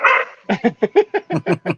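A dog barks in a quick, loud, close series of about ten sharp barks, preceded by a brief whine, with no voices over it.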